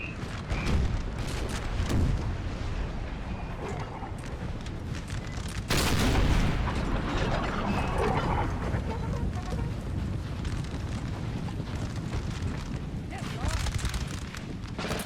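Musket volleys and cannon fire on a Napoleonic battlefield in a strategy war game, ragged crackling gunfire and booms rolling continuously under wind-like noise, with a sharp heavy blast partway through.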